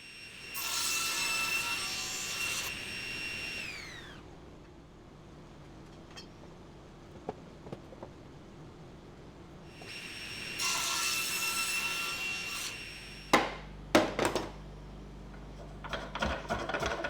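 A wooden beam being cut by hand along marked lines for a steel-and-wood workbench, giving two long stretches of steady rasping saw strokes with a quiet pause between them, then a few sharp knocks and clatters toward the end.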